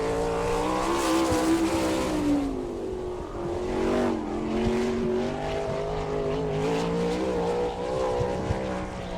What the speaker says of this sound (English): John Ivey underway in car number 20